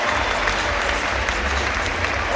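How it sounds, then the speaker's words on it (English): A dense, steady wall of loud applause from the crowd at the IFSC Climbing World Championships bouldering semi-finals in Munich, greeting climber Adam Ondra as he is introduced, sustained throughout. "It's a very strong round of applause from the knowledgeable crowd here in Munich"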